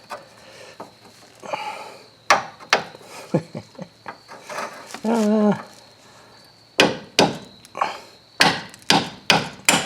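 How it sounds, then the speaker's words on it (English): Sharp metallic hammer blows strike a screwdriver in irregular bursts while removing a 2000 Ford Focus rear subframe, some single, some in quick clusters, close and loud, with a brief scraping rasp midway. "Hammer into the screwdriver here."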